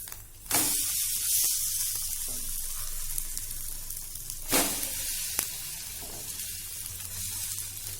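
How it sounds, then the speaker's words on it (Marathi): Bread omelette frying on its second side in a pan over a medium flame; a steady broad sizzle runs throughout, with a couple of brief sharper spatters and no voices. "दुसऱ्या साइडने पण आपल्याला छान भाजून घ्यायचं आहे"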